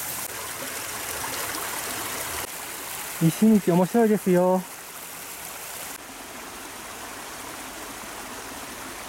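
Artificially fed stream flowing through Showa Kinen Park in Tokyo on a sunny February day, a steady nearby rushing babble that runs throughout, with a short spoken phrase over it partway through.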